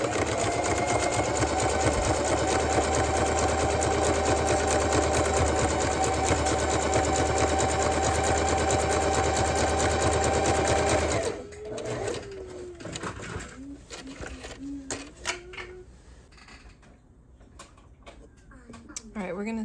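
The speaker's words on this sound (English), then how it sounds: "I'm going to finish this edge with a zigzag like we did before" Sewing machine running a zigzag stitch along the edge of a zipper pouch, a loud steady mechanical whir for about eleven seconds, then stopping, leaving quiet handling sounds and a few faint bird coos.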